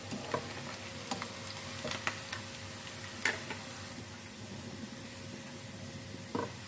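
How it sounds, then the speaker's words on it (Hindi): Roughly chopped onions fry in hot oil for a dhaba-style keema, a soft steady sizzle with scattered faint ticks and stirring clicks throughout, no one speaking. "प्याज डाल देते हैं ऑयल में। प्याज को भी फ्राई कर लेते हैं।"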